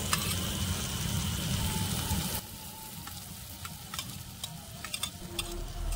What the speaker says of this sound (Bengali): এবার আমি একটু নরম হয়ে যাওয়া পর্যন্ত ভেজে নেব